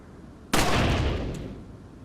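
An explosion in the Resident Evil 4 video game, a single sharp loud blast that hits suddenly and then trails off in a long rumbling decay.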